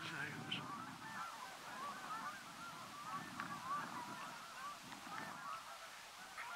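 Flock of Canada geese on spring migration passing overhead, repeated honking calls scattered across the clip, distant and faint over outdoor background noise.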